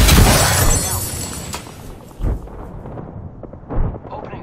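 A frag grenade blast in the game Apex Legends erupts loudly at the start and rumbles away, followed by a couple of shorter thuds and crackles as the din fades.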